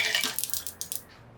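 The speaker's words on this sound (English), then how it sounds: "rinse them thoroughly with cold water" Cold water rinsing cooked ramen noodles in a colander: a quick series of splashing, spattering bursts of running water, close and moderately quiet, trailing off toward the end with no talking.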